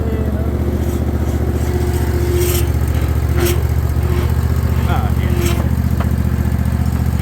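A Cub Cadet ZT1 zero-turn riding mower with a 54-inch deck driving down a trailer ramp, its engine a loud, steady close drone throughout while someone talks over it.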